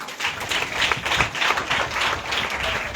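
A church congregation applauding at a Hindi service, a steady, close wash of many hands clapping that swells slightly and holds for a few seconds without talk.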